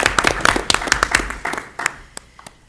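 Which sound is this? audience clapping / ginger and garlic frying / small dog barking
audience clapping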